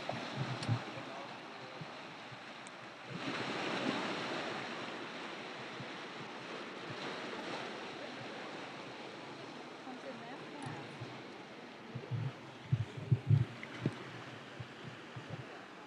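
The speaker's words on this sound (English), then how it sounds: "There you can see the tidal bore, the boar tide" A tidal bore surges in along the shore, a steady broad wash of rushing water with wind buffeting the microphone, swelling after a few seconds and staying rough, with a few louder knocks near the end.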